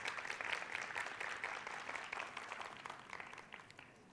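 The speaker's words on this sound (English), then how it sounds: "Can we have a round of applause for that, please?" Audience applause at a TEDx event at a Cambridge International school in Kurdistan: a sustained burst of clapping from a seated crowd, fairly distant and moderate, slowly thinning and fading toward the end.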